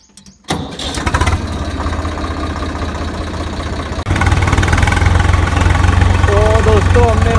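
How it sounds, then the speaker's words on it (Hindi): A farm tractor fitted with a rotavator starts up in an onion field. The engine catches abruptly after a brief quiet moment, then settles into a loud, steady, throbbing idle that swells slightly partway through. "तो करते हैं ट्रैक्टर स्टार्ट अपन।"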